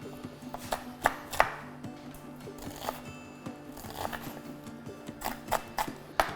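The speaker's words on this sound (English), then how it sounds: "this is going to allow you to get really nice thin chopping of the onions" A knife chops onions on a cutting board in quiet, irregular taps over a steady low hum, with some sharper knocks standing out among the softer cuts.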